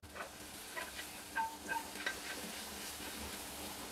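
Corned beef and onion sizzle in a frying pan with a soft steady hiss, and a utensil stirring and scraping lightly now and then.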